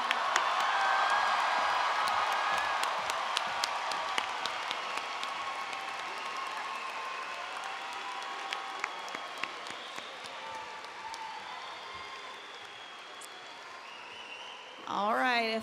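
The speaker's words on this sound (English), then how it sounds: "Let's give our graduates one more round of applause." A crowd at the Grafton High School 2019 graduation applauds the graduates, sustained clapping with scattered whoops and cheers that slowly fades, then a brief voice rises at the end.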